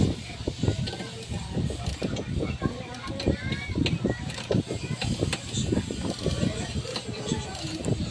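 Tightening a nut on a Honda Click motorcycle crash guard with a hand tool, steady close clicking and ratcheting clatter throughout, with faint talk in the background.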